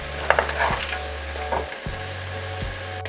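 Beef pieces frying in a pan until golden brown, a continuous loud sizzle and spatter close by, with low humming tones and a few stirring knocks beneath it.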